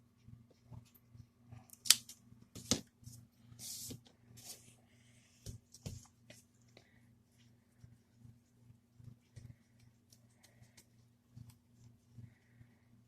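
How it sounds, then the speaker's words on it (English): Scissors snipping off yarn tails from a loom-knit slipper sock, several sharp close clicks clustered early, then quieter handling noises over a low steady hum. "I'm just going to snip off these tails."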